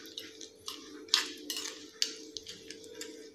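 A tempering of curry leaves, a pinch of asafoetida and a dried red chilli is stirred in a small pan for coconut chutney, giving quick light metallic clinks and scrapes over a soft crackle, close by.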